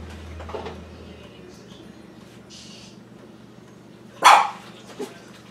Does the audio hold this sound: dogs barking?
yes